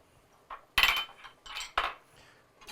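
Cooked Manila clams with flat-leaf parsley stirred in a pan, a handful of clattering clinks and scrapes of shells and utensil against metal, close and irregular.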